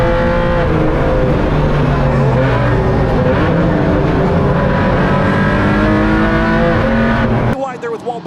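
Race cars including a V8 Corvette in a Gridline Circuit Legends and Eibach GLTC sim race accelerate off the green flag start, a loud continuous blend of several engines revving together close by, with brief commentary over the engines, cutting off abruptly near the end.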